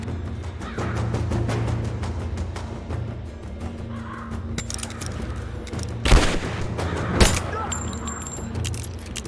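Gunfire in the video game Rise of the Tomb Raider comes as rapid bursts and a couple of sharp louder shots over a busy, noisy background.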